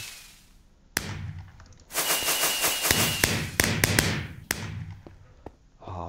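Sharp bangs and crackling bursts of Minecraft fireworks, a rapid cluster of pops and sizzles followed by a few scattered blasts.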